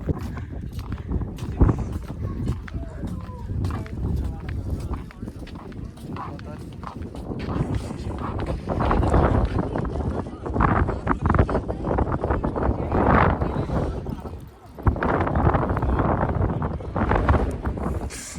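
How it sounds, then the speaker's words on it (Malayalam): Strong wind buffets the microphone in heavy low rumbling gusts at Jebel Hafeet, Al Ain, with hoof-like clopping and a voice speaking intermittently throughout. "എന്ത് കാറ്റാ."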